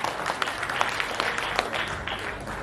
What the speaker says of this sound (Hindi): एक बार जोरदार ताली की गड़गड़ाहट हो जाए दोस्तों।